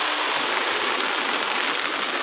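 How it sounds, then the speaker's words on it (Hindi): Heavy monsoon rain pours down outdoors beside a drain that has filled to the brim, a constant, dense roar of falling and rushing water with no break. "बारिश तो बहुत ज़्यादा ही हो रहा है और ड्रेन इतना पूरा भर गया है"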